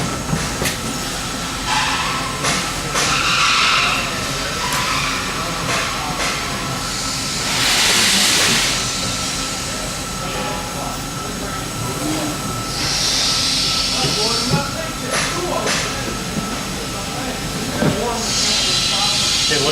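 A gantry packing machine powers up with a steady mechanical hum and bursts of pneumatic hissing as its flap control adjusts, with brief clanks; a person talks intermittently over it.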